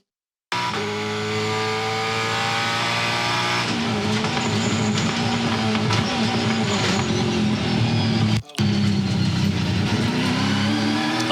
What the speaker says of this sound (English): On board here with Andre Heimgartner in the Finance Easy Ford, and that was sliding around as he chases down Jeff Emery, sits 15th.